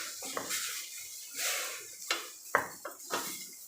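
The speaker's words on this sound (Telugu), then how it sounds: "మళ్ళీ ఒకసారి కలుపుతున్నాను." A spoon stirs food in a metal cooking pot for a simple home lunch, giving scattered clinks and scrapes against the pot's sides, with soft swishing between strikes and no talking.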